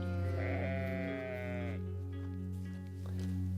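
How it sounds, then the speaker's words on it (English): A sheep on a dairy sheep farm gives a long, clear, wavering bleat near the microphone, followed by softer calls, with a steady low hum beneath. "Right now on the farm there's about 400 or 450 sheep."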